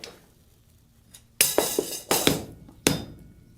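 Hammer blows forge-weld a smaller steel rod: several sharp ringing metal strikes in an irregular burst after a quiet start, loud and close, with no talking.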